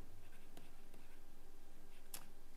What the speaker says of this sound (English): okay, I'll write it here.